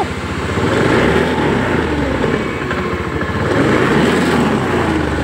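A Honda Beat eSP scooter engine, one that has trouble starting and sputters, idles steadily nearby with a continuous low putter and no talking.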